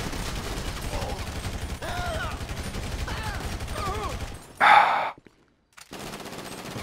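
Rapid gunfire in GTA V with the LSPDFR police mod, sustained bursts over a dense, noisy game mix, then a brief loud blast before the sound drops out to near silence and the busy mix resumes.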